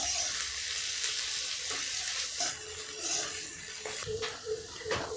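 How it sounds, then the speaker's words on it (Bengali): Sliced onions frying in oil on a gas flame turned up high, a steady soft sizzle with occasional clinks and scrapes of a utensil against the pan. "এই পেঁয়াজ কোচানোগুলোকে আমি লাল করে ভেজে নেব।"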